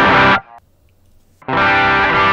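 Electric guitar through an Ibanez Nu Tube Screamer NTS overdrive pedal, loud and close: a sustained distorted chord rings and cuts off, a brief near-silent gap follows, then another thick overdriven chord sustains to the end.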